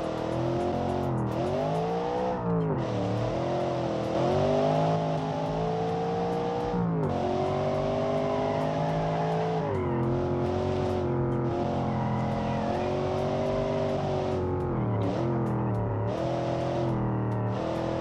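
A high-performance car in the BeamNG driving game revs and accelerates continuously, its engine note rising and falling through repeated gear changes with brief dips, loud and close throughout with no talking.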